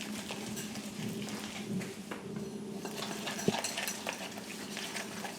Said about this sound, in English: it'll stick to the tines of the whisk and the whisk will actually break up the lumps